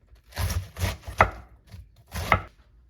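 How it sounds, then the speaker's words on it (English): Cabbage is chopped into thin shreds on a cutting board. A knife strikes the board several times in close succession, sounding crisp and near, with a short pause before the final cuts. No one speaks. "We're going to chop the cabbage thinly, just like thin shreds"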